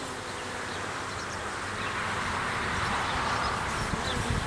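Dense, steady buzzing of many honey bees crowding a hive frame during an inspection, close and continuous, swelling slightly louder partway through with faint handling sounds underneath.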